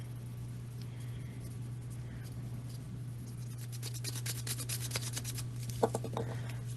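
Foil powder is rubbed over fingernails for floral and lace nail art, giving soft, quiet scratchy rubbing strokes that grow busier toward the end. A steady low hum lies beneath, and no one speaks.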